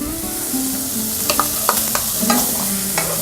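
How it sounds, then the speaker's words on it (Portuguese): Red pepper and grated carrot sizzle in a pan with bacon and onion, a steady loud fry under scattered scrapes and clicks of a spoon stirring, close up and with no talk. "Agora a gente entra então com o pimentão e com a cenoura ralada"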